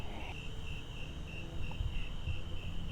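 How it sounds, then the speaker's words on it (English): Crickets chirp steadily outdoors in a backyard at night, a constant high trill that pulses gently, with a low background rumble beneath it. "You can hear the crickets out there."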